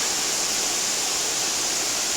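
Clear, clean river water rushing steadily in the mountains of Kyrgyzstan, a loud, continuous broadband roar with no pauses and no voices.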